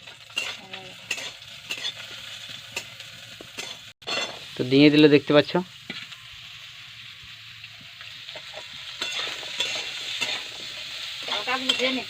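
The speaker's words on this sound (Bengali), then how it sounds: "হালকা ভেজে নিতে হবে নুন দিয়ে প্রথমে" Vegetables and spices with turmeric and salt fry and get stirred in a wok, a soft sizzle under bursts of clattering stirring, with a loud scraping spell midway and someone talking over parts of it.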